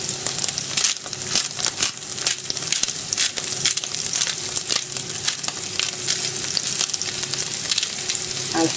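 Meatballs fry in hot oil in a pan and are turned now and then, giving a loud, continuous close sizzle dotted with sharp crackles and pops, with no voices.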